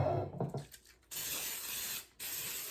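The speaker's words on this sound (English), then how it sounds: "Now I'm going to go on and spray my pans over here." Two bursts of cooking spray hiss close by onto baking pans, the second long and steady, separated by a short pause, after some faint handling noises.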